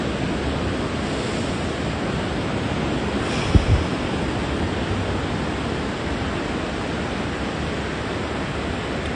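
Ocean surf rolls onto a beach on an early Saturday morning, a steady, loud wash of breaking waves with wind noise across the microphone and no voices.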